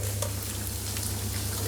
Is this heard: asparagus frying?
yes